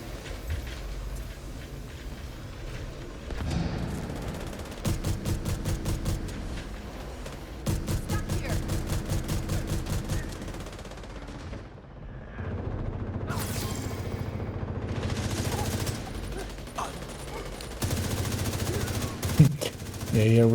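Rapid automatic M4 rifle fire in a looter-shooter video game, coming in several sustained bursts of evenly spaced shots over steady game sound, with brief pauses between strings.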